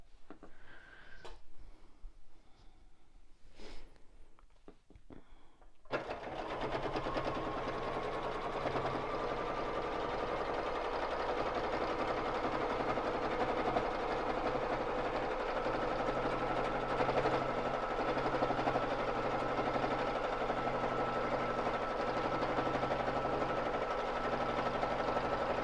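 A BabyLock Jazz sewing machine stitching free-motion quilting on a frame starts after a few quiet clicks, then runs in a steady, close, rapid mechanical whir for about twenty seconds.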